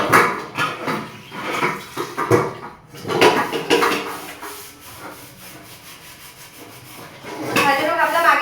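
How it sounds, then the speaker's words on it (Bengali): A cooking pot is scrubbed clean by hand before rice goes on, giving close, rhythmic rubbing and scraping strokes in irregular bursts, with a brief pause midway and livelier scouring near the end. "তো হাঁড়িটা মাজা নিই"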